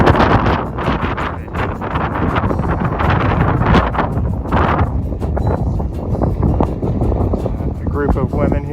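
Strong wind on a mountain summit buffets the microphone in loud, rushing gusts while a person talks over the roar.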